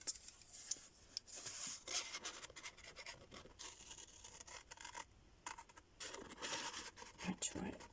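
Scissors cutting out a floral die-cut paper craft tag, giving close, uneven scraping and snipping strokes in short bursts with brief pauses, while someone talks quietly.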